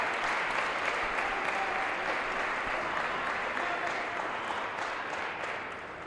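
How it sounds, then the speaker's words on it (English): A large crowd at a junior table tennis championship final claps steadily and loudly, a dense wash of applause that fades slightly toward the end. "listen to this crowd getting behind him"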